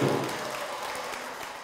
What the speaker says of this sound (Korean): 여러분의 큰 사랑과 큰 환영의 박수를 한번 보내주시죠, 신부님한테